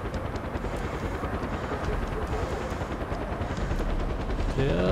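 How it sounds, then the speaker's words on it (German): A helicopter approaches in Far Cry 4, its rotor thrum rising steadily over a dense, continuous bed of loud in-game noise for several seconds, with no talk. "jetzt kommt der blöde Heli"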